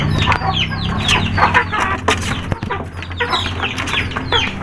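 Native chickens cluck busily and repeatedly, close by, as they peck at vegetables in a coop, with overlapping calls and short squawks throughout.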